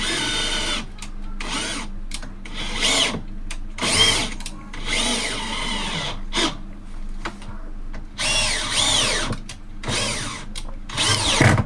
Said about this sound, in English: So your screws have got to be long enough to go through the wood battens and the wood floor